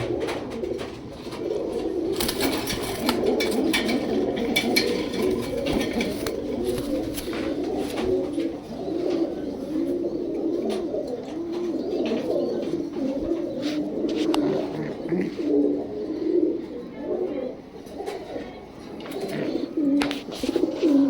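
A Martin neck pigeon, a breed that does not fly, coos indoors in a steady run of low, rolling calls, close and continuous, with faint clicks and rustles but no talk.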